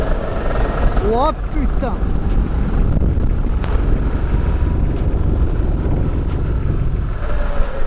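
A Fidico Black Knight electric scooter at full throttle near 100 km/h on 76 volts, a steady roar of rushing wind and motor under a man's startled exclamation, close and continuous.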